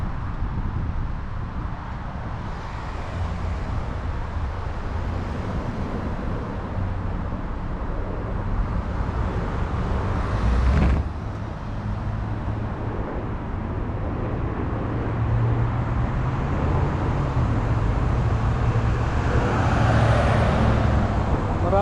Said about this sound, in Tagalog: Marami nang sasakyan dito sa amin dito.